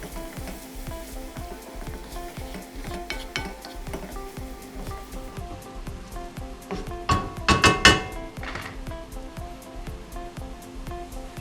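Spices fry in a pan for a fenugreek and chicken curry, a soft sizzle under repeated scraping and tapping of a spoon on the pan, with a louder flurry of stirring partway through.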